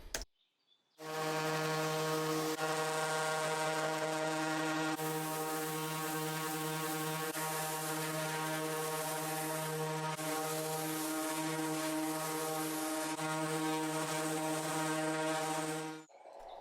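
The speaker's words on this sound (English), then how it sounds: "That was a reenactment of what it felt like to sand the back of this sideboard." A steady, loud buzzing drone standing in for sanding the back of a 1930s wooden sideboard. It starts abruptly, holds unbroken for about fifteen seconds, then cuts off, with no talking.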